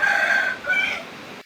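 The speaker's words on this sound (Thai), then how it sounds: "วันนี้เลยเอาคลิปไก่" A rooster crows close by, loud and alone, with a drawn-out two-part call that cuts off abruptly at the end.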